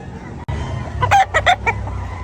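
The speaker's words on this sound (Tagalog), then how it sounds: "Ganda rin manok." Roosters crow at a chicken market in Pandi, Bulacan, with a few short, loud crowing calls clustered together over a steady background murmur.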